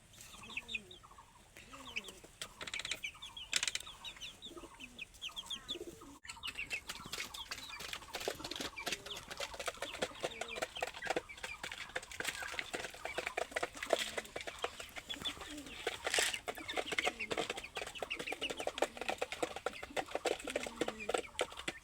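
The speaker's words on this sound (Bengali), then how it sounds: "এখানে ফার্মি মুরগি আছে, টার্কি মুরগি আছে" Farm chickens and turkeys cluck continuously on a farm, a busy, close chorus of overlapping calls that grows denser after the first few seconds.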